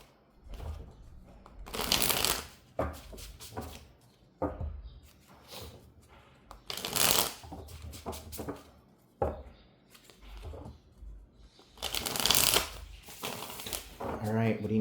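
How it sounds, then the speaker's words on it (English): Tarot cards are shuffled in repeated bursts of crisp riffling and flapping, close and fairly loud, with quieter handling between bursts and faint speech in the background. "I'm gonna be shuffling the cards"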